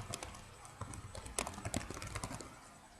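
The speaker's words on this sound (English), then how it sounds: "my typing is bad today" Quiet, irregular clicks of fingers typing on a computer keyboard, arriving in short uneven bursts with a few louder taps.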